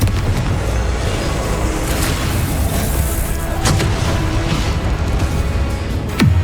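Confringo fire-spell blasts in the Hogwarts Legacy video game: loud booming explosions over a continuous roar of battle noise, with sharp impacts punctuating the dense rumble.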